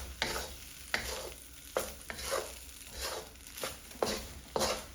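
Fried rice sizzles quietly in a pan as it is tossed and stirred, with regular scraping strokes about once a second over a steady hiss.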